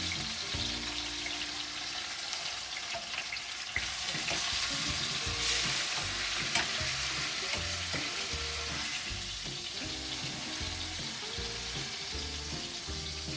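Beef pot roast sears in a hot pan, a loud continuous sizzle and crackle with occasional scraping and shifting as the meat is moved, heard close and alone.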